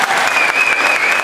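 Audience applause at a Club Hotel Riu Bambu evening entertainment couples contest, dense steady clapping from a close crowd throughout the short burst.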